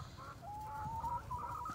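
Chickens cluck near a compost pile: a short, fairly close, rising and wavering call over faint background rustle.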